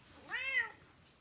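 A single short cat meow, clear and fairly close, rising and falling in pitch, from a cat waiting for wet food, with quiet room tone around it.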